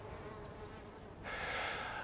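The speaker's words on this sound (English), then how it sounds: "I'm surrounded by mason bees that love this particular wall, and they're really busy" Mason bees buzzing busily around a garden wall, a steady insect drone that swells louder midway as one flies close to the microphone, with no talk.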